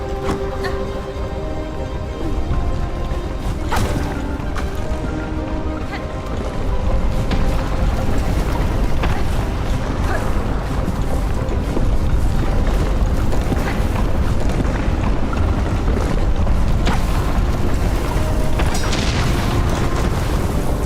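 Booming explosions in the Hollow Knight: Silksong video game, a dense, loud continuous rumble with repeated heavy blasts and crashing impacts sustained throughout.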